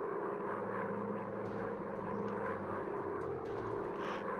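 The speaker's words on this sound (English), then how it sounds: "Okay, this is a cool looking plane." Propeller warplane engine in a night mission of a VR air combat game, a steady droning hum with low harmonic bands that holds evenly throughout without a break.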